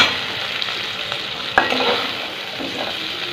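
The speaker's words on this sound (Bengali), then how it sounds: "আমরা দেখতেই পাচ্ছেন আলু ভাজা হয়ে গেল।" Boiled potatoes fry in a wok with a steady close hiss of sizzling oil, broken by a few stirring scrapes and one sharp clink, with no talk.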